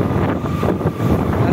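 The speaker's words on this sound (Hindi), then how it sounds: "हल्की हल्की प्यारी प्यारी हवा चलती है।" Wind rushing past during a night motorbike ride in Padrauna, a loud, steady buffeting roar of wind noise on the microphone with no talking.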